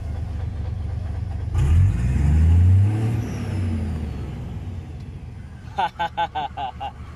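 A 6M70 double-EGR truck diesel engine, running low on power with injector trouble, revs up in a deep swelling roar and then settles back to idle. A burst of rapid clicking follows.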